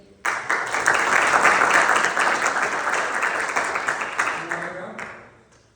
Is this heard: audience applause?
yes